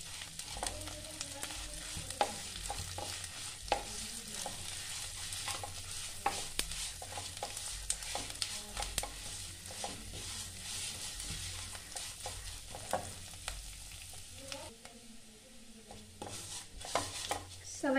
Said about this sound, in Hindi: अब डाल देंगे सेवई, सेवई को अब भून लेंगे।